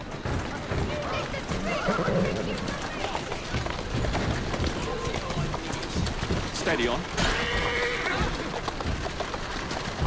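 A horse whinnies amid rapid hoofbeats in the video game Assassin's Creed Syndicate, with a person speaking over the animal sounds throughout.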